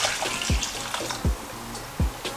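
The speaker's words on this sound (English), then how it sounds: "get 700 ml of water, put it in your pot" Water is poured into a cooking pot on a home stove, 700 ml of it, giving a steady close splashing rush broken by a few dull low thuds.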